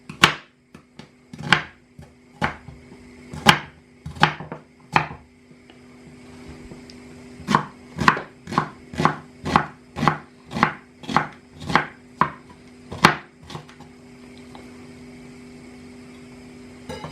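Knife chopping food, likely onions, on a board in a home kitchen: about twenty crisp, evenly paced strikes, close and loud, in two bursts separated by a brief pause.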